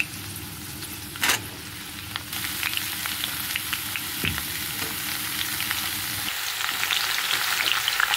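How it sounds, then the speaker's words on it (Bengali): Pumpkin greens added to potatoes already frying in a pan set off a loud, continuous sizzle with crackly pops. A sharp clatter comes early, and stirring scrapes continue throughout. "আলুটা ভাজা করা হয়ে এসছে, এবার আমি দিয়ে দেবো কুমড়ো শাকগুলো"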